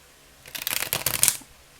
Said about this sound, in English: See, let's try to shuffle it.